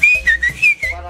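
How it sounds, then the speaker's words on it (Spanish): A neighborhood signal whistle in a Mexican barrio, a loud close human whistle of four or five short rising and falling notes in a quick rhythmic pattern, heard alone. "Bueno, algo que se vive en los barrios son los chiflidos"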